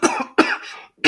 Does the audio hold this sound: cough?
yes